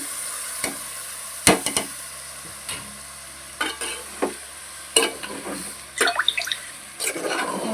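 Country chicken pieces tossed into frying masala and stirred in a pan, with scattered scraping stirs and soft sizzling over a steady background hiss, no talking.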